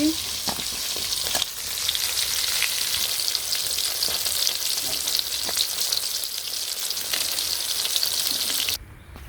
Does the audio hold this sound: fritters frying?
yes